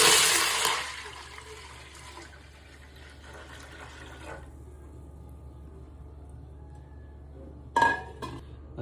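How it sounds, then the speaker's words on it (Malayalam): Water gushes briefly into a rice cooking pot holding a little oil, a loud splashing pour that fades into quiet, followed by a short second splash near the end. "വെള്ളം ഒഴിച്ചു കൊടുക്കാം."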